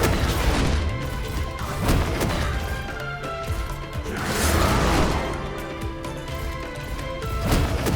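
Explosions in the video game Code Vein 2 boom through a dense, loud mix of crashing effects and rumbling, with several swelling blasts over continuous game noise.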